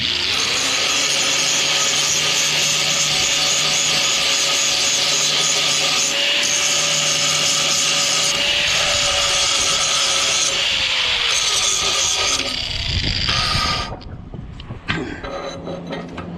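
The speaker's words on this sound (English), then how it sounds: "Grind that galvanizing off a little bit." A power grinder works steel close up on an International 154 tractor deck, stripping off galvanizing with a loud, sustained whine and a steady tone that drops and sputters out near the end.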